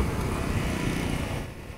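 Small 110cc scooters pass on a mountain road in northern Vietnam, heard as a brief, steady low engine and road rumble that fades slightly at the end.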